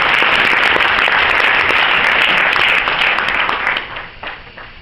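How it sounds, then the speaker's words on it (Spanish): Loud, dense applause from an audience welcoming a speaker at a panel event, steady for several seconds then thinning out near the end, with no talk over it. "Un fuerte aplauso para ella."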